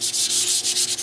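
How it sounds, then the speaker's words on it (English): A brown paper bag is rubbed lightly over a painted surface in quick back-and-forth strokes, a soft rhythmic scratchy sanding about six passes in a second, close and alone. "So I want to very quickly just lightly sand it."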